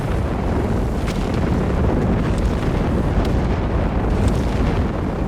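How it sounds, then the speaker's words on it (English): A rocket barrage in Company of Heroes 3 pounds down as a continuous, heavy, roaring wall of explosions. It sounds loud and dense, with a few sharper cracks breaking through and no clear speech. "Another rocket barrage."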